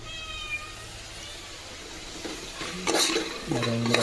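Chicken roast frying in hot oil, a steady close sizzle with a few scraping stirs of the pan and a brief clatter near the end.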